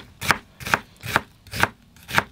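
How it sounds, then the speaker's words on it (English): A knife slices an onion straight down on a cutting board in a narrowboat galley kitchen. Five crisp, evenly spaced chops land about half a second apart, close and clear, with no talking. "So I'm just going to cut it the other way that I mentioned earlier, just straight down"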